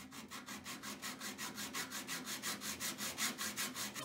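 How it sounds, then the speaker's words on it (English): Hacksaw cutting through a metal stovepipe for an antique wood cookstove install, steady rhythmic back-and-forth strokes at roughly four per second, close and loud with no talking. "you just start with your hacksaw and you create a spot where you can get through the"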